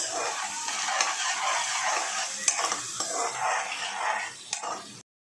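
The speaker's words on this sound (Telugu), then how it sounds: "సాల్ట్ వేసాక ఒకసారి మంచిగా మిక్స్ చేసుకుందాము." Onions stirred in a pan as they fry with salt for gongura chicken, a steady close sizzle with scraping spoon strokes and a few sharper knocks, no voices.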